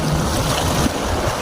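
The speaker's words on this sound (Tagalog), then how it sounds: "Dito tayo sa tabing dagat." Seaside waves washing in steadily at the shore, a dense, continuous roar mixed with wind buffeting the microphone, with no talking.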